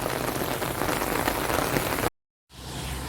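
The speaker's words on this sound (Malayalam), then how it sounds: "ഇവിടെ ഇപ്പം മഴയായിട്ട് നിന്നു." Steady, close rain pours down during a stop on a long walking journey, making a dense continuous patter that cuts out briefly to silence and then returns.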